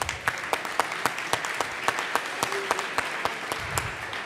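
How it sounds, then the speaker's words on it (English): Audience applause fills a room at a chamber of commerce community leadership awards, with steady dense clapping and a few sharper individual claps standing out throughout, loud and close. "Please give yourselves a round of applause"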